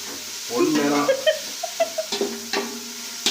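Onions are stirred and fried in a pan, with uneven scraping and clacking strokes over a soft sizzle. A brief voice-like sound comes in near the start.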